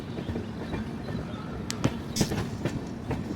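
From inside a third economy coach of a Kolkata to Kamakhya passenger train, a steady rumble carries rhythmic wheel clicks and clatter over the rail joints.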